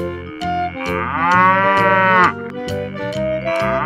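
A cow moos loudly over a steady rhythmic musical backing, one long drawn-out bellow rising and falling in the middle, with no talk, amid a cartoon animal sequence.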